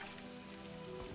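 Steady rain falls across the soundscape of the video game DFU, a dense continuous hiss of drops on surfaces with a low ambient hum beneath, even and unbroken throughout.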